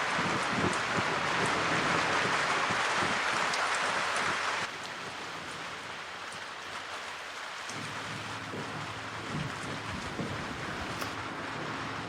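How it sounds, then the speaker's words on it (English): Steady rain falls in a dense, continuous wash, heavy at first and then a little softer, with no voices over it. "Why the rain now?"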